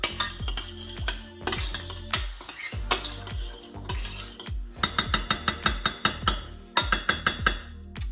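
A utensil stirs and scrapes around a hot pan of food being brought up to heat, repeated clinking strokes in a steady rhythm, close and fairly loud, with a faint sizzle underneath and no talking.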